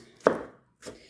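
Onions chopped on a cutting board while preparing food at home, a single sharp knife strike followed by a trailing scrape, then a second softer chop, close and clear with no talking.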